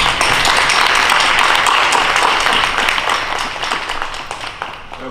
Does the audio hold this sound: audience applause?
yes